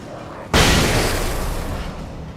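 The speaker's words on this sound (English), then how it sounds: "I love how I'm, like, using a flashbang and my art is just staring at the goddamn explosion." A flashbang grenade in the video game Alan Wake goes off with a sudden loud boom, then a long noisy ringing decay that slowly fades.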